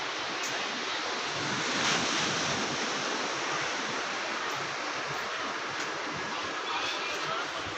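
Sea waves on the semicircular Nagoa Beach at Diu: a dense, continuous roar of surf with some wind buffeting the microphone, loud and unbroken from start to finish.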